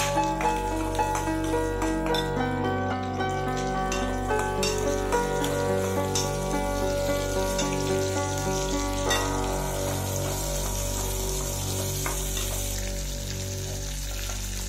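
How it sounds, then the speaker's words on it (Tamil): Garlic and onion sauté in a hot pan for onion chutney, a steady loud sizzle and crackle of frying throughout with occasional stirring scrapes, no voices. "அப்படியே பூண்டையும் சேர்த்து நல்லா வணக்குங்க."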